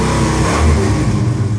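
A 1969 Dodge Charger's engine is given gas, a loud, close, sustained rev with a low rumbling roar that swells briefly and holds steady, no talk.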